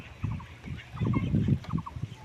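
Domestic ducks and lesser whistling ducks on the water, giving clustered quacking calls close by in several bursts.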